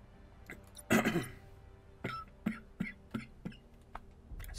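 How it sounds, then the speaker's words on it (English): Several short, sharp coughs come close to the microphone during a quiet gaming session, one louder burst followed by a string of softer, evenly spaced coughs. "Not sure where that cough came from."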